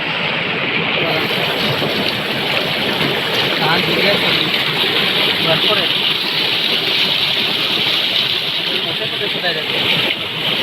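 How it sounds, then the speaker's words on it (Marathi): A rushing forest stream roars loudly and continuously, with someone talking over the noise. "पाण्याचा आवाज एवढा की तुम्हाला माझा आवाज येतो की नाही माहिती नाही"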